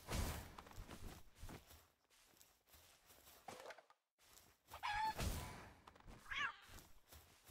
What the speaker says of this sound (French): Un chat et une poule.